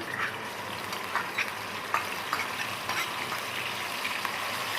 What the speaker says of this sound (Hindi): दो बड़े साइज की प्याज है जिसको मैंने चॉप कर लिया है। ऑयल में डालते हैं